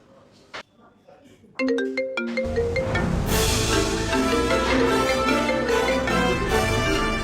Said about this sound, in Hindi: मैं बॉस को फोन लगाती हूँ।